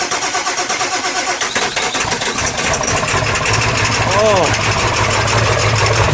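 A straight-piped 7.3L Powerstroke diesel in an OBS crew cab truck cold-starts on a dark morning and settles into a loud, rough, raw idle right up close, while a person briefly exclaims over it.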